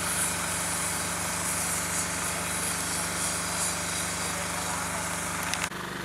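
A DJI T40 agricultural drone spreads fertilizer over a rice field, its steady loud motor and rotor drone running continuously for the whole stretch before cutting off abruptly near the end.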